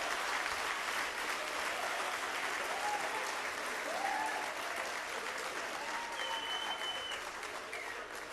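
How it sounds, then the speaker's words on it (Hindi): Loud applause from an audience at a university poetry gathering, a dense, continuous wash of clapping that holds steady throughout, with faint voices and a whistle-like tone surfacing in the background. "एक बार तालियां बजाओ जोरदार।"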